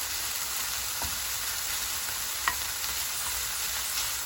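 Bacon frying in a pan for pasta amatriciana, a soft even sizzle with occasional light scrapes and taps as the pieces are stirred and broken up, close but fairly quiet, no speech.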